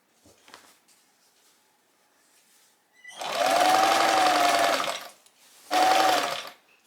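A sewing machine stitches down pleats on a skirt with tape, running in two close, steady bursts: a long run of about two seconds, a short pause, then a briefer burst, with no talking.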